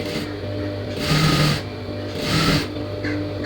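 A sewing machine stitching folded blouse piping in two bursts of rapid mechanical whirring and clatter, separated by quieter pauses, close and clear with no talk.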